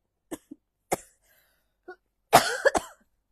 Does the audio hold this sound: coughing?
yes